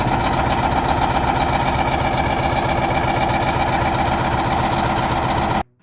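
A diesel truck engine idles with a heavy, low, rhythmic rumble, close and steady for several seconds before cutting off abruptly.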